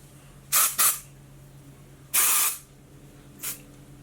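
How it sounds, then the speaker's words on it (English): Dry shampoo sprayed onto hair from an aerosol can, three distinct hissing bursts: two quick short sprays close together, a longer blast, then a brief faint puff, near and alone. "So what I like to do is I like to use my dry shampoo."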